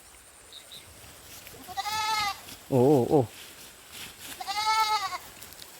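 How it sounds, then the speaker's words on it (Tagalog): Goats in a herd near a river bleat in a few separate calls, fairly close and loud against quiet outdoor background, with a brief voice between them. "So ang daming kambing oh."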